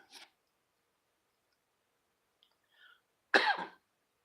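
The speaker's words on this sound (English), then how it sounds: "apologize for my cough" A single sharp cough rings out close by in a quiet room, preceded by a few faint small noises.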